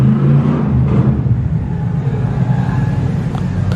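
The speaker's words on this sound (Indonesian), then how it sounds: "Suara mobil jam segini loh." A large car passes by at night outside an abandoned hospital, a loud steady low rumble of engine and tires filling the whole stretch, fading only slightly as it goes.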